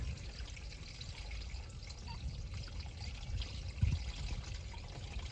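Milky water draining from a 1986 Ford F250 6.9 turbo diesel into a catch pan, a faint steady pour and trickle beneath low rumbling background noise, with one brief clunk partway through.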